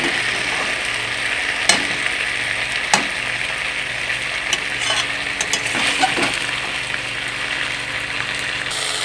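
Masala frying in a pan over a high gas flame, stirred steadily so it does not burn, giving a loud constant sizzle with scattered spatula scrapes and clinks, close by and with no talk.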